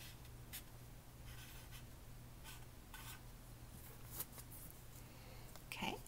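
A pencil scratches a short word onto paper in a few quick strokes with pauses between them, close and quiet, with faint scraping and a light rustle near the end.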